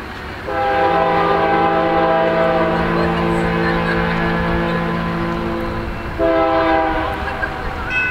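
A BNSF Dash 9 locomotive leading a coal train sounds a loud, sustained chord horn, blasting for several seconds, pausing briefly, then giving a shorter final blast over the rumble of the passing train.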